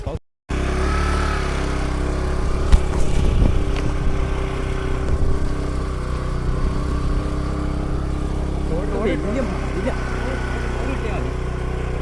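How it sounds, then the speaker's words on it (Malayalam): A scooter rides an off-road dirt track, its engine a steady mid-pitched drone throughout, rising briefly as it revs, with talk over the top. "സ്കൂട്ടറായിട്ട് ഓഫ് റോഡ് എടുക്കുന്ന അധികം ഇല്ല"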